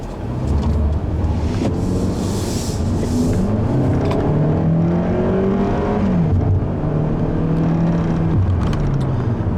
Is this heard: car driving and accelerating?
yes